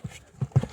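A lively, playful horse's hooves clip-clop on the ground in three distinct close steps, loud and sharp, with no talk over them.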